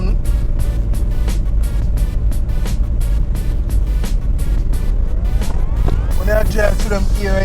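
A car driving on a country road in Jamaica, giving a steady loud engine and road rumble with rhythmic thumps. Near the end a rising whine sweeps upward.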